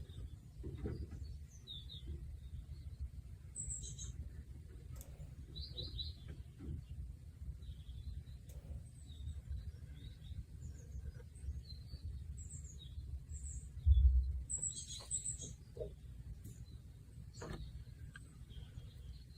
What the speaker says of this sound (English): Birds seem happy.